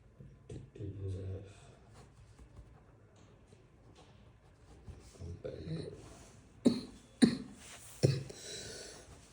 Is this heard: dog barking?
no